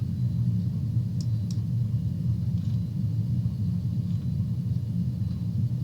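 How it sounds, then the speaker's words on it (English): Distant thunder rolls as a steady, deep, continuous rumble with no clear claps, loud and low throughout, and nothing else is heard. "I think there's thunder rolling in."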